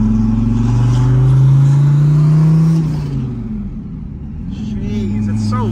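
A loud engine from a Dodge Viper or McLaren 600LT roars close by with a rising drone, then drops away as voices talk over the lower rumble.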